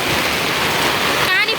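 Heavy rain pours over a market stall in Butwal, Nepal, a dense steady hiss of falling water filling the whole stretch, with a brief voice surfacing near the end.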